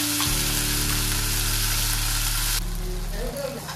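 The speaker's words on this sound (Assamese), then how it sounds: "গৰম হৈ গ'ল, এতিয়া পেষ্টখিনি ইয়াতে আমি দি দিছোঁ।" A spice paste hits hot oil in a pan while cooking dinner, giving a loud, continuous sizzle over a steady low hum, with a sudden drop in crackle near the end.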